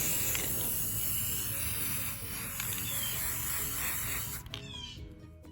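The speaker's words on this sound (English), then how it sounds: "I'm going to spray paint this one white with my 2x semi-gloss." White semi-gloss spray paint hisses steadily from a can onto a pumpkin, a close and even spray lasting several seconds before it breaks off near the end with a short clatter.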